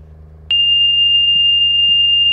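Fire station alert tone in the Roblox game Jefferson City Fire Dept: a single loud, piercing electronic beep starts abruptly and holds steady over a low background hum.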